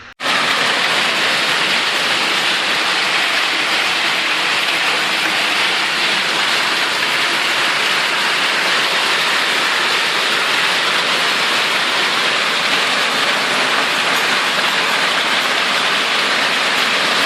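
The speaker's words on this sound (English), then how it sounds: "Hail." Hail falls steadily and loudly, a dense, continuous hiss of pellets striking a surface that holds without a break for about seventeen seconds.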